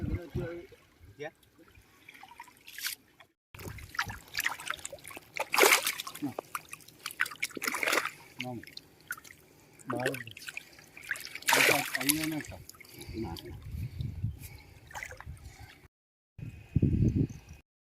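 A fishing net is hauled through water during a country fish catch, giving irregular splashes and sloshing bursts, some loud and close, with voices talking throughout.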